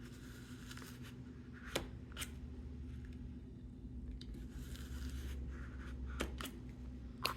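Sharp knife slicing through composition notebook pages a few sheets at a time, heard as a few crisp, brief cutting scrapes scattered over a steady low background hum, close and fairly quiet.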